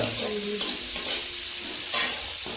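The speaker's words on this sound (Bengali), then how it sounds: "লবণ আর হলুদ দিয়ে ভেজে নিই হালকা করে" Magur catfish pieces sizzle steadily as they fry in oil with salt and turmeric, a dense, continuous crackle close by with a few brief louder spatters and scrapes breaking through.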